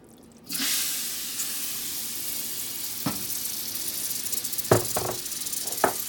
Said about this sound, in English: Right now, I'm gonna add in my onions.